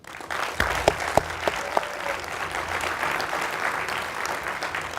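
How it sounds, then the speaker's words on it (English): An audience claps for Chamber of Commerce members at a city address, steady sustained applause from a crowd with a few louder individual claps near the start. "can we just take a moment and applaud and thank all of our members"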